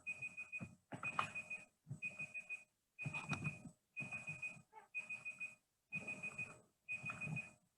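Electronic beep sounding in a steady series of about eight short pulsed bursts, fairly faint and evenly spaced, with no one speaking over it.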